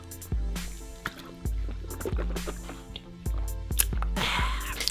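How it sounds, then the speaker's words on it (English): A person drinks water, with several close, distinct gulping and swallowing thumps in an uneven rhythm and wet liquid sounds between them. "let me get a bit of this water because I'm feeling kind of parched"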